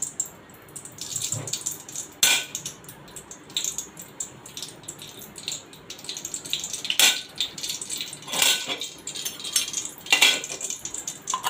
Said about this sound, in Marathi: आता याच्यामध्ये 1 चमचा तूप घालणार आहे।